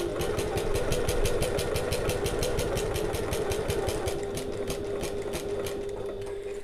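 A sewing machine stitches a pocket seam on an oval bag, a fast, steady needle chatter with a clear rhythmic pulse, close and prominent, running continuously and easing slightly toward the end, with no talking.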